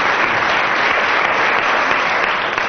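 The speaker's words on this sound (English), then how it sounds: "aided by approximately 10 minutes of applause from the audience" Studio audience applause on a 1979 Christmas radio comedy panel show, a loud, even wash of clapping that continues unbroken throughout.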